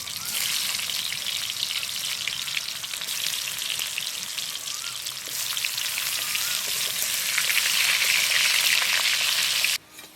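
Potatoes fry in hot white oil in a wok, giving a loud, continuous close-up sizzle that grows more intense toward the end before cutting off abruptly.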